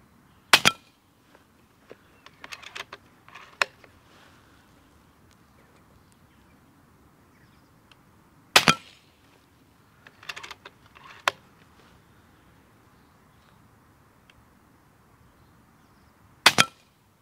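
An FX air gun fires pellets at bulletproof glass outdoors, giving three sharp, loud cracks spaced several seconds apart, with smaller clicks and taps of impacts and handling in between.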